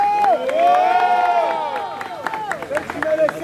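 Audience at a team rap battle between Nisque and Mineiro cheering, whistling and shouting for Mineiro, a loud crowd roar with sharp whistles and claps rising and falling throughout.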